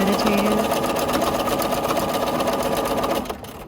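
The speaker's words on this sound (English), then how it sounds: "Free motion quilting can be super meditative." A sewing machine runs steadily close up during free motion quilting, its fast even needle clatter continuing for a few seconds before winding down at the end.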